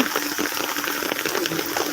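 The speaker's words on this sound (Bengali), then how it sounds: "খুবই বৃষ্টি পড়ছে" Heavy rain pours down by the Ganges in Kolkata in a steady, dense hiss that stays loud and unbroken throughout.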